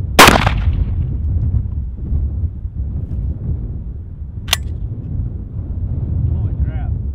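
A single loud shotgun blast at the very start, a Kicks High Flyer choke tube replaced by a Winchester modified choke, fired at cardboard 20 yards away, then outdoor wind rumble and a faint later click.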